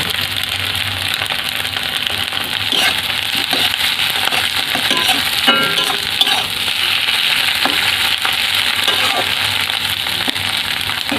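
Raw banana and egg fry in a hot pan with salt, giving a loud, steady sizzle throughout, broken by occasional scraping stirs and small clinks of a utensil.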